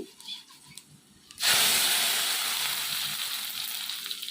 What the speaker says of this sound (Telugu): పోపులు కూడా బాగా వేగాలండి